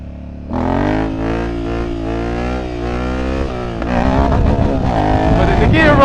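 A Honda Africa Twin motorcycle engine revs hard and climbs through its gears, rising loud and close, then the pitch drops at a shift before it pulls up again.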